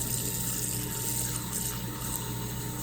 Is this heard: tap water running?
yes